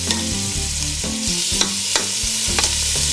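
Marinated beef chunks brown in a hot pan, with steady loud sizzling under repeated scraping stirs.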